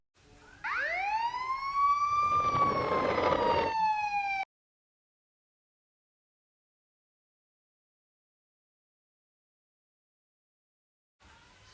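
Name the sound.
police car siren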